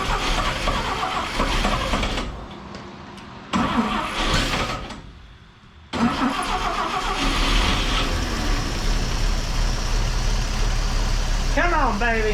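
An old 1958 Chevrolet Apache truck engine cranks in rough bursts, catches and settles into a steady, slightly chattery idle, loud and close, with voices talking over it.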